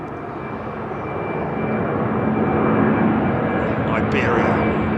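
The Flying Honu jet airliner takes off from Heathrow runway 09R, a loud broadband engine roar that builds and swells steadily as it climbs away.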